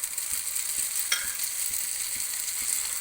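An egg omelette fries in a pan, a steady close sizzle with a few soft stirring taps from a ladle, no talking.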